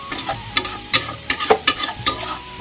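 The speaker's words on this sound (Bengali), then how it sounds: "পেঁয়াজ আর লঙ্কা ভেজে নিয়ে এখানে জিরের গুঁড়ো হলুদ আর লবণ দিয়ে দিয়েছি মশলাটা একটু কষতে থাক" Onion, chilli, cumin powder, turmeric and salt masala frying in a pan, with a steady sizzle broken by repeated sharp scraping strokes of a spoon stirring, close and fairly loud, no voices.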